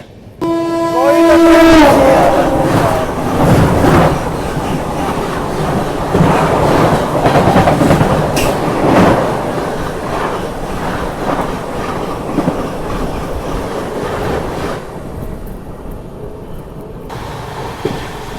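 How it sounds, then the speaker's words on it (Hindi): The Purushottam Express races along at speed, a loud, continuous roar of wheels with rhythmic clickety-clack and occasional squeal, opening with a horn-like tonal blast and fading somewhat near the end. "कड़क रफ्तार में पुरुषोत्तम एक्सप्रेस 19 आवर्स डिले"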